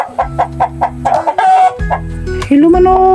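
Chickens at a house garden cluck loudly and close by in a quick rhythmic series, followed by longer drawn-out calls from the flock.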